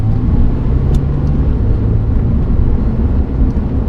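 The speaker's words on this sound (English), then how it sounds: "I'm gonna start with some like half throttle pulls." A Porsche 911 engine pulls at half throttle, a loud, steady low-pitched drone that holds without a break while the car moves.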